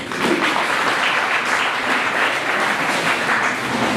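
Audience applause for incoming Young Christian Society executives at a leadership gathering in Kitgum, a dense, steady crowd clapping that stays loud and even throughout.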